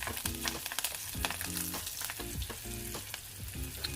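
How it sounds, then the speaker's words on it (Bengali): Nigella seeds and two slit green chillies sizzling in hot oil left over from frying fish, a close, steady crackle and hiss with scraping stirring strokes through it. "ওই তেলেই কালো জিরে ফোড়ন দিয়ে তার মধ্যে চেরা 2 কাঁচা লঙ্কা দিলাম।"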